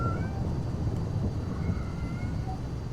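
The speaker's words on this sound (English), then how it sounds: "That is my cat in the background" A pet cat, a vocal female, meows a few times fairly close by against a steady low engine-like drone from a flight simulator.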